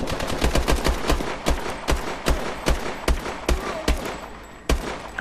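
Rapid bursts of video game gunfire sprayed into bushes, sharp close shots in uneven clusters repeating across the stretch, loud and unaccompanied by talk.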